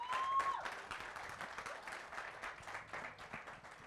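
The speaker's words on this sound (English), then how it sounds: "please can we give him a round of applause?" Workshop audience applauding after a business talk, a burst of scattered clapping from a modest crowd that gradually thins and fades.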